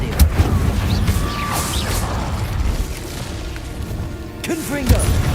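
Fiery spell effects from an Incendio cast in Hogwarts Legacy, a loud whooshing, booming burst with rumbling low end and a few sharp pops, and a voice speaking over it.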